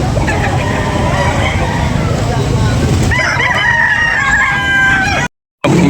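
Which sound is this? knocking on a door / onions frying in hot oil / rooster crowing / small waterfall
rooster crowing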